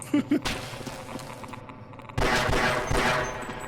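Rapid gunfire in the PC game Half-Life, a burst of shots near the start and then a louder, denser volley of bangs in the second half, with no talk over it.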